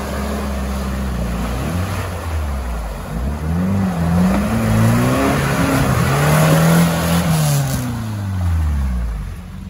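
A red Niva off-road car with pneumatic diff locks drives through a forest, its close, loud engine repeatedly revving up and easing off over about ten seconds.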